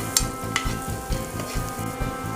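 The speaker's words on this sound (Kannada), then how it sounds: "ಈರುಳ್ಳಿ ಹಾಕೋತಾ ಇದ್ದೀನಿ. ಕೆಂಪಾಗೋ ತನಕ ಒಂದು ಸ್ವಲ್ಪ ಫ್ರೈ ಮಾಡ್ಕೊಳ್ಳೋಣ." Onions with chana dal and peanuts frying in a pan, a steady close sizzle with rhythmic scraping strokes of a spoon and a few sharp pops, no voices.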